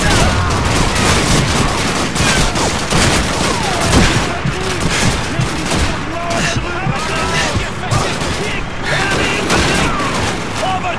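Gunfire in Call of Duty 2 plays as dense, continuous battlefield shooting with overlapping rifle and machine-gun bursts and booms, loud and close, with a voice talking over it.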